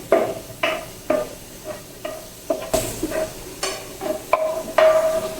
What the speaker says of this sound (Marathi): तर लसूण आधी आपल्याला व्यवस्थित तळून घ्यायचं आहे, कलर चेंज होईपर्यंत.